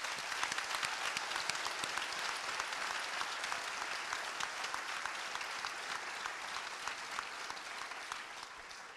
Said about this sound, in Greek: να σας ζητήσω να χειροκροτήσουμε και την ομάδα της